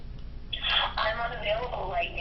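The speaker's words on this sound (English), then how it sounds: "It's ringing. Pick up." A phone call rings through a speaker during an at-home crop event, a thin electronic tone with people talking over it.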